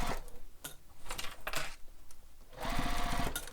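A sewing machine stitches a beach bag lining around curves in short bursts, stopping and starting with brief pauses before a longer steady run at the end, close and clear.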